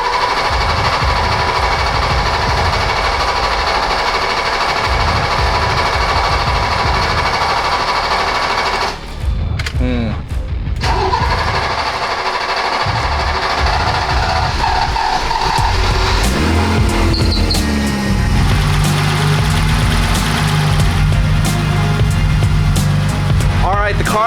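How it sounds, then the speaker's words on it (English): A BMW E30 engine with a new fuel pump, injectors and filter runs loud and close with a continuous buzzing idle, with a short dip near the middle before the running settles into a steady tone. "The car's warmed up now, and as you can hear, she's purring like a kitten."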